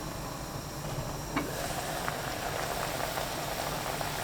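Soup with sesame oil and cod boiling in a covered pot for tteokguk, producing a steady, muffled bubbling rumble with faint irregular pops throughout and no talking.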